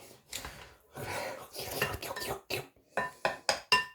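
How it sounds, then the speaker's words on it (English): A high-protein pasta salad is tossed and turned around a bowl with a utensil, giving close, irregular scraping and clinking bursts that grow into sharper clanks toward the end. "And we start mixing. Just keep turning it around the bowl."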